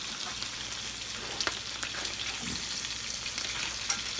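Sausages caramelize in a pan with a constant, even frying hiss and occasional small pops and stirring scrapes, moderately loud and close.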